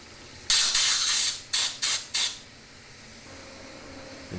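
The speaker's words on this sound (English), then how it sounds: "solvent and compressed air." Compressed air and solvent spraying to clean a Hyplex pump end cap: one long hissing blast followed by three short bursts in quick succession, close and fairly loud against a quiet background.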